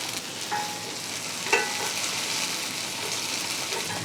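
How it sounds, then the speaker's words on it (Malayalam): Shallots and chillies roast in a pan until they turn brown, giving a steady close sizzle with soft stirring scrapes and one brief sharper clink. "അപ്പോൾ ഇതൊന്ന് മൂപ്പിച്ചെടുക്കുക ഇതിൻ്റെ നിറമൊക്കെ ഒന്ന് മാറണം കുറച്ചൊരു ബ്രൗൺ കളറാകണം"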